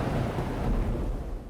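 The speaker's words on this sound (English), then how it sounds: "It was a dark and stormy night, the kind that made the wind howl like a pack of wolves." Stormy night outdoors: a steady, dense roar of wind and rain with low rumbling underneath, unbroken and fairly faint throughout, with no voices.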